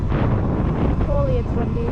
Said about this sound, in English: Holy, it's windy.